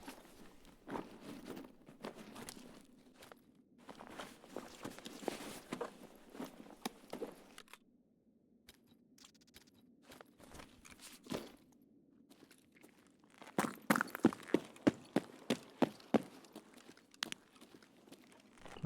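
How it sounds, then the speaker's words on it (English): Footsteps in the video game Escape from Tarkov, a run of crunchy steps in bursts with gaps between them, then a sharper, louder flurry of quick steps near the end, close by, with no talk. "And I heard footsteps above us."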